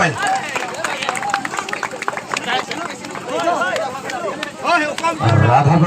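Crowd applause for Radhapur, the champion football team, at a prize-distribution ceremony for the Dungurivali football tournament: dense, steady clapping mixed with crowd chatter and a voice talking over it throughout.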